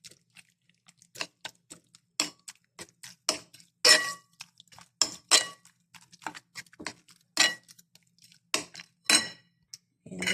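A spoon mixing chili powder into food in a bowl: irregular metallic clinks and scrapes against the dish, close and crisp, coming in uneven bursts with short quiet gaps between strokes.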